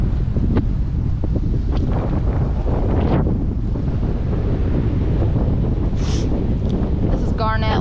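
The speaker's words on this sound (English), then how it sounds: "it's pretty darn windy" Strong wind at Garnet Lake buffets the microphone in a constant loud low rumble, with a faint voice briefly audible near the end.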